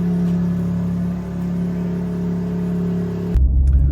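A BMW G80 M3 cruising at night gives a steady, close engine drone with a constant low hum and no talk, ending in a sudden louder, rougher rumble.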